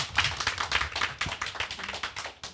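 Small audience clapping to welcome a guest speaker at a talk event, a brief burst of distinct hand claps that stays close and moderately loud, with no talking.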